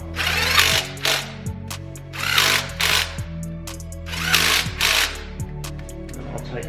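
A power tool tightens a bolt on a BMW E46 engine during a head gasket job, sounding in about five short bursts of whirring with brief pauses between them.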